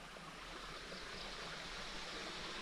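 A river stream flows in a steady, even rush of water, faint and continuous, beside someone doing laundry in it outdoors.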